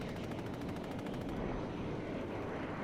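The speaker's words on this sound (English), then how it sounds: "I'm trying to find a garage, and I'm also being shot at" Rapid automatic gunfire in the PlanetSide 2 video game on the Oshur map rattles in fast bursts, loud and dense during the first half before settling into a rumbling background din.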